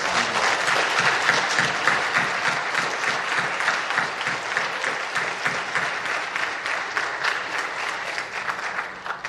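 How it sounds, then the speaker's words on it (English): Sustained applause fills a senior awards ceremony, a large audience clapping steadily and densely for the whole stretch, loud and close with no speech over it. "please, a round of applause for Mrs."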